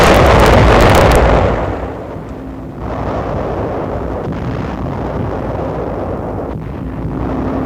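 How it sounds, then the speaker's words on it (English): Naval bombardment explosions off Balikpapan in 1945, from U.S. 7th Fleet ships with Australian and Netherlands navy units, in an old wartime newsreel: a loud booming blast up front, then a sustained rumbling roar of distant detonations. "a bombardment from the U.S. 7th Fleet in conjunction with units of the Australian and Netherlands navies"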